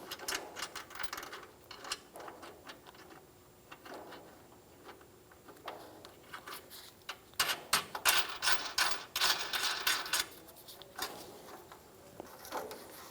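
Ratchet spinning a nut tight on a bumper mounting point of a 2005–2015 Toyota Tacoma during an air suspension helper spring install, giving bursts of rapid close clicking with brief pauses, the busiest stretch in the second half.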